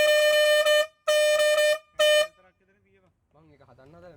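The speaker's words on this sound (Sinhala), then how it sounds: "මේ හෝන් එක මගේ එකේ ගහන්න පුළුවන් කෙලින්ම" A bus-style air horn fitted to a vehicle in Sri Lanka blares three loud, close blasts, the last one shorter, followed by a moment of quiet and then someone speaking.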